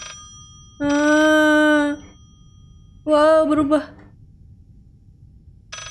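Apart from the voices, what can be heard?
telephone ringing in the video game Layers of Fear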